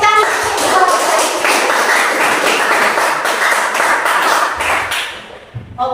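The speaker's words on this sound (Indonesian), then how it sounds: "Oke, tepuk tangan." A class of students clapping their hands in a classroom, a dense steady round of applause that fills the room for several seconds before tapering off near the end.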